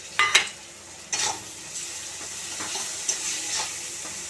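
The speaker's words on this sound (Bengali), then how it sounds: "1 চামচ বাটা মশলা দেবো, দিয়ে নাড়াচাড়া করবো।" Ground spice paste frying in a pan while being stirred with a utensil: a few sharp scrapes and knocks over a continuous close sizzle that swells and fades with each stir.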